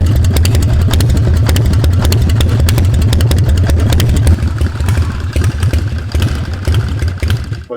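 Custom coffin-style chopper motorcycle built in 1997 runs loud and close, its engine pounding in a steady rapid rhythm with metallic clatter, easing slightly in the second half.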